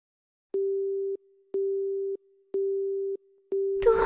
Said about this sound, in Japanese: もう一度電話をかけようとする。